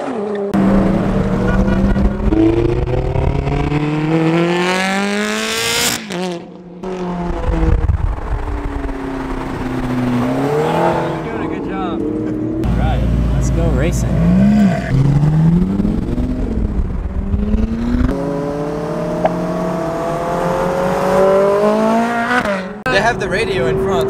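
Lamborghini Huracán Performante and other sports cars, including Ferraris, at an exclusive Los Angeles car rally: loud engines revving and accelerating close by in repeated surges, with passing cars and people talking in between.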